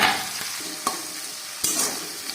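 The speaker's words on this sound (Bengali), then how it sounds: "এবার সব সবজিগুলোকে একটু নুন দিয়ে ভালো করে নাড়ছি আমি" Bell peppers and other vegetables sizzle in a pan for homemade dry chilli chicken while a utensil stirs them, with three or four clear scraping strokes over the steady frying hiss.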